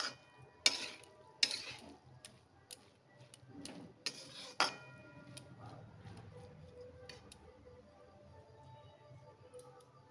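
Grated coconut and jaggery are fried and stirred in a pan over a gas flame, with sharp metal spoon scrapes and clinks early on, then fading to quiet, faint stirring.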